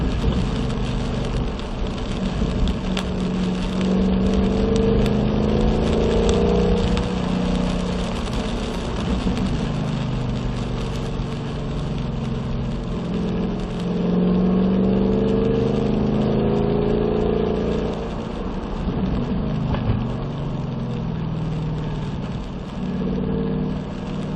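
Car engine on a race track, a continuous mid-pitched drone that swells and eases repeatedly as the car accelerates out of corners, with road and wind noise underneath throughout.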